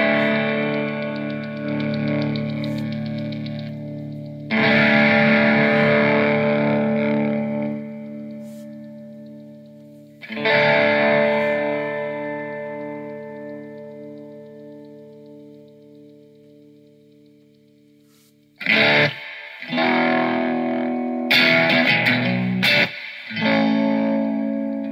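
Heavily distorted electric guitar chords through a Top Hat fuzz pedal ring out in separate bursts, each crunchy and fuzzy, left to fade before the next, with quicker stabs near the end.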